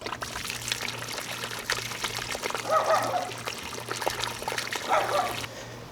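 Water gushes out of the open end of a drip irrigation hose being flushed outdoors, a steady pouring rush with a faint low hum beneath and two brief surges of splashing.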